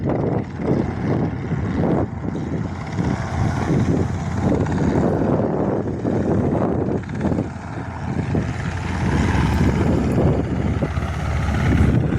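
A Cessna C-172 light aircraft makes a touch and go on a windy day, its propeller engine a steady, fairly loud drone mixed with rumbling wind noise throughout.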